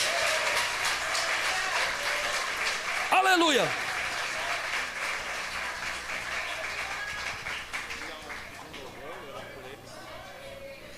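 A church congregation claps loudly and continuously for several seconds, a dense wash of applause that slowly thins, with a voice shouting in Portuguese and a brief rising whoop partway through.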